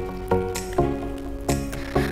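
A spiced vegetable chop filling being stirred and turned in a pan, with wet squishing scrapes every half second or so and a light sizzle beneath, close and fairly loud, no talk.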